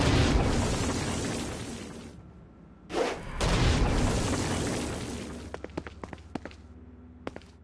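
A Stone Blast in the game Saints Row: Gat Out of Hell goes off against a flying demon, a heavy booming explosion that fades, then a second blast, followed by a scatter of sharp pops and thuds.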